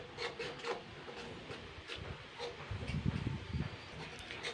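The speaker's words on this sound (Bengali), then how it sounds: "এবার সবগুলো মশলাকে আমি আরেকটু ভালোভাবে কষিয়ে নেব" Spices with kasuri methi being stirred and sautéed in a pan, a steady soft scraping and rubbing with a low sizzle that grows slightly louder near the end, close by with no talking.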